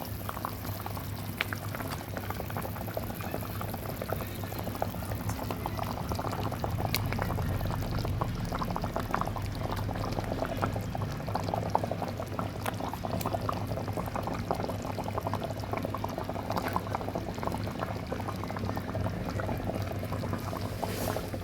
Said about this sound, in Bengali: ঝোলটা সুন্দর ফুটে উঠেছে আমি এবার এক এক করে কই মাছগুলো দিয়ে দিচ্ছি